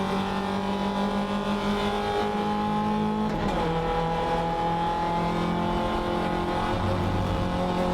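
Race cars in a wheel-to-wheel battle on a circuit roar steadily at high revs, with a dense, continuous engine drone and a brief shift in pitch midway, loud and close throughout.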